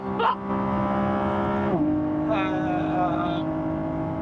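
A Lamborghini Revuelto in performance mode at full throttle, its engine holding a loud tonal drone that dips in pitch then climbs again, with someone speaking over it.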